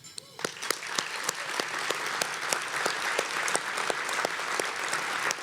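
A banquet crowd at an awards gala applauds the conference co-sponsors, a thick, sustained wash of clapping with sharp individual claps standing out nearby, building quickly and holding steady to the end.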